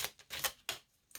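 Tarot cards being drawn and handled, heard as a few quiet, brief papery flicks and shuffles in separate bursts with pauses between them.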